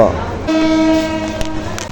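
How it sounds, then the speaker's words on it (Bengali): Jayantika Express, an Indonesian-built train, sounds its horn as it departs Kamalapur station in Dhaka, a steady two-tone blast held for over a second amid station bustle and faint background voices. "এগারোটা বেজে বিশ মিনিটে আমাদের জয়ন্তিকা এক্সপ্রেস ট্রেনটি ছেড়ে দিল"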